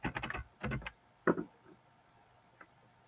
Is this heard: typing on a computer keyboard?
yes